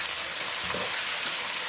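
Mutton karahi pieces being fried and mixed in a pan, a brief dense sizzle with a soft stirring scrape midway, close and steady.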